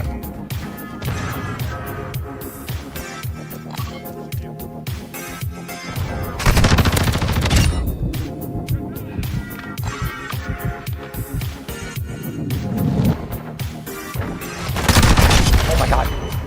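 Call of Duty Modern Warfare gunfire: rapid automatic bursts and sharp repeated shots, close and loud, with heavier volleys in the middle and near the end, while a player talks over the fighting.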